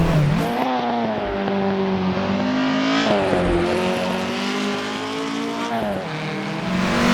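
Historic Formula 1 race car in the Assetto Corsa video game downshifting at the Pescara circuit, a loud screaming engine whose pitch drops in quick steps with each gear change, then climbs again, under faint tire noise.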